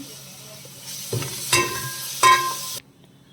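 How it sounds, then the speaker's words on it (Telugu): Ginger garlic paste frying in a pan while mango pieces are cooked: a soft steady sizzle with a few louder hissing bursts as it is stirred, ending abruptly, with no talking. "ఇలా ఫ్రై అవ్వాలండి. ఇప్పుడు కొంచెం అల్లం వెల్లుల్లి పేస్ట్ వేసుకుందాం."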